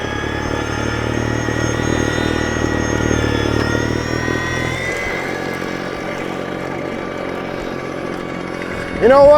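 A 28-inch Ego two-stage battery snow blower with joystick control runs steadily with a loud motor whine and churning auger; partway through the load drops and the tone thins, then a sharp rising surge near the end.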